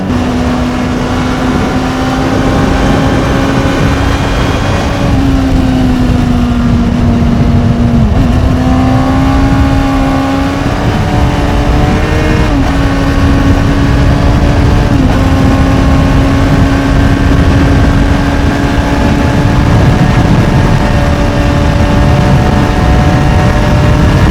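A Honda CBR600RR motorcycle engine drones loudly and continuously during a night ride, its pitch climbing through gears with brief dips at shifts, heard up close over constant wind noise.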